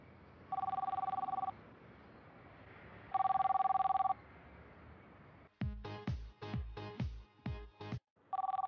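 A telephone ringing in repeated electronic bursts, each about a second long and separated by pauses, with a short burst of other sound between the later rings.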